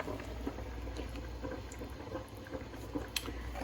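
A pot bubbles steadily on a home stove while spaghetti sauce, baked beans and ground beef cook, a continuous low simmering burble with small pops and drips throughout.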